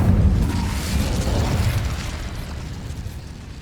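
An Incendio fire spell cast in Hogwarts Legacy gives a loud, roaring burst of flame that rumbles heavily at the start and slowly fades over a few seconds.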